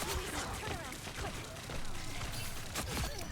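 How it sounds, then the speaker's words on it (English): Rapid video-game gunfire in Marvel Rivals is aimed at Venom, coming as quick, faint bursts of shots mixed with a voice and other game sounds. "Now we should shoot Venom."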